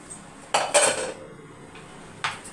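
A cooker pot of cooked mutton is opened with two short bursts of clattering metal, lid against pot, which stand out against a quiet kitchen background.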